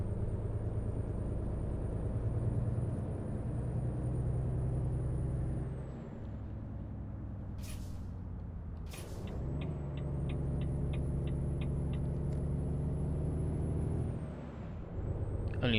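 Heavy truck in American Truck Simulator, a Volvo VNL hauling a backhoe, its engine droning steadily throughout while two sharp air-brake hisses burst out near the middle, followed by a brief series of rapid clicks.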